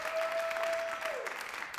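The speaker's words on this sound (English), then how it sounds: "Clap, please." Audience clapping at a variety show open stage, a brief burst of moderate applause under a held whistle-like tone that bends downward, fading toward the end.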